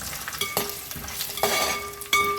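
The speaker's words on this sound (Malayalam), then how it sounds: "ഒരു രണ്ട് മൂന്ന് വെളുത്തുള്ളി ചതച്ചതും രണ്ട് ഏതെങ്കിലും കറിവേപ്പിലയും കൂടെ ഇട്ടിട്ട് നമുക്കിത് കോരിയെടുക്കാം" Crushed garlic and curry leaves sizzle in a pan with roasting peanuts, a steady close frying hiss broken by several sharp stirring scrapes, with no voices.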